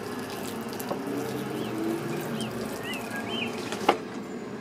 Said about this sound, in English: you just need to water it in.